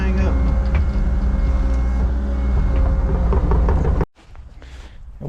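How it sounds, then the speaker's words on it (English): Steady diesel rumble of an idling skid steer near a new house being graded, running loud and constant for about four seconds before cutting off abruptly, leaving faint rustling. "let me get the skid steer and hook this thing up"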